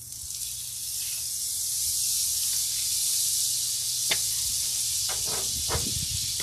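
Steady hiss of a full stick of butter melting and sizzling on a hot Blackstone griddle, soft and continuous, with a few faint clicks and scrapes near the end.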